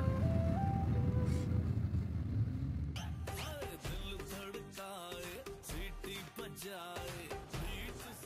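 A song plays from a music player, coming in abruptly after a rumbling vehicle-like background and continuing with a clear melody and rhythmic beat to the end.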